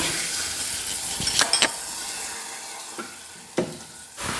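Hot oil with curry leaves sizzling as tempering hits a curry, with a few sharp metallic clinks and scrapes of utensils against the pan.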